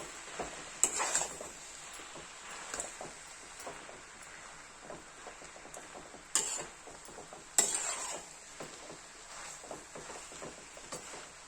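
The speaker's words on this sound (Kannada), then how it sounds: "ಅನ್ನ ಹಾಕ್ಕೊಂಡು ಮಿಕ್ಸ್ ಮಾಡೋಣ." Cooked rice being stirred and tossed into corn fried rice in a pan, soft scraping and clinking of the spoon against the pan with a few sharper knocks, quiet and close.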